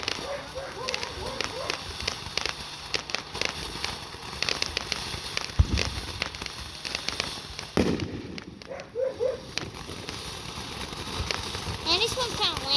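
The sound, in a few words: Fourth of July fireworks exploding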